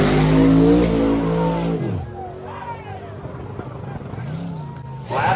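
A drag race car on a no-prep track: a loud engine roar drops sharply in pitch, then quieter revving rises and falls in the distance, ending with a sudden burst.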